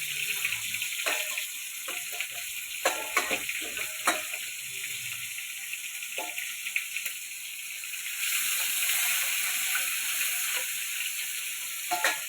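Rita fish fry in oil in a pan with a soft, continuous sizzle, broken by a few scattered clinks and bubbling pops.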